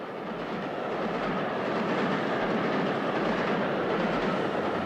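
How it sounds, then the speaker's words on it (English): A train rolls steadily along the rails, a loud continuous rumble with faint rhythmic clatter, close by and unbroken throughout. "This train is carrying people from one place to another."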